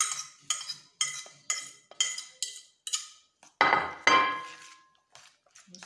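Rice stirred in a frying pan with grated carrot, onion and cheese, a spoon scraping and clinking against the pan in a steady run of sharp strokes, then a couple of heavier scrapes, close and fairly loud.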